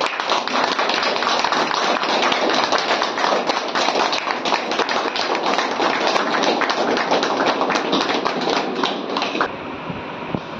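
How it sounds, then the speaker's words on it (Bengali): Crowd applause at a fish vendors' union gathering in East Medinipur, a dense, steady burst of many hands clapping that holds loud for about nine seconds before tapering off. "সবাই একটু হাততালি।"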